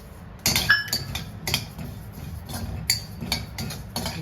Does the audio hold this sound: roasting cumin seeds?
yes